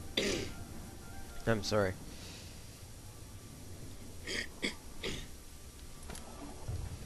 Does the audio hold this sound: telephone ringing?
no